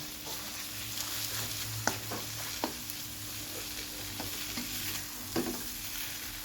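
Pad see ew noodles with tofu and cabbage being stir-fried in a Thai home kitchen: a steady sizzle throughout, with scattered scraping clinks of the spatula against the pan and no talking.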